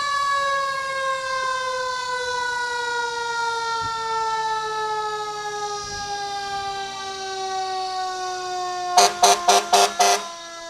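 A loud wailing ambulance siren sweeps steadily at a Fourth of July parade in Chautauqua County, then switches to a rapid pulsing yelp near the end, with a truck engine rumbling faintly underneath.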